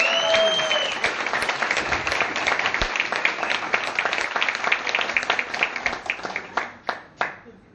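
Loud crowd applause at a leadership seminar, many hands clapping together, thinning out into a few last separate claps, with a voice heard briefly near the start.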